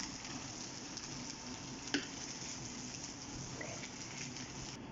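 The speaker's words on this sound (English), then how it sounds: "Slowly just bring in all the onions from the bottom onto the top like this." Rice and fried onions being stirred together in a hot pan give a steady, soft sizzling hiss throughout, with one brief clink of the utensil partway through and no talking.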